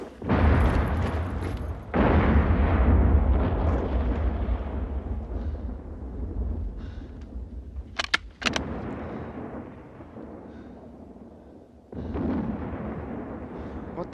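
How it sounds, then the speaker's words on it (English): Bombs exploding in a World War I battle scene, heavy booming blasts with rumbling roar that fades and then swells again, with sharp cracks near the middle, and voices shouting faintly within the din. "Look out! Bombs!"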